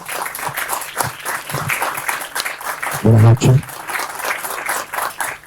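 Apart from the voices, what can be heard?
applause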